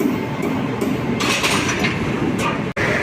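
Kurla Express passenger train with a WAG9 electric locomotive attached rolls past close by, a dense continuous rumble of wheels and carriages with rhythmic rail clicks, loud and steady throughout.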